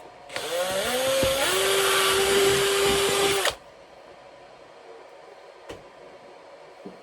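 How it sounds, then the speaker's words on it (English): A small power drill with its smallest bit bores a hole underneath an ecto siren build, a loud, steady whining drone for about three seconds, pitch climbing as it spins up, then stops abruptly, leaving quiet room tone and one faint click. "And I'm going to drill it"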